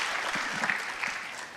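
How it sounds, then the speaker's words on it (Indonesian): Church congregation applauding together during a service, a steady wash of clapping that holds for the whole short stretch, fairly even in loudness with no voice over it. "berikan tepuk tangan buat mereka bertiga."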